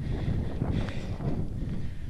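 Steady wind buffets the microphone with a low, continuous rumble and roar on a ridge along the Hidden Valley Trail, with no voices.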